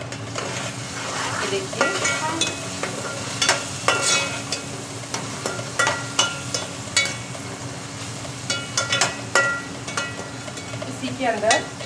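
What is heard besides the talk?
frying and stirring ingredients for matar pulao in a pan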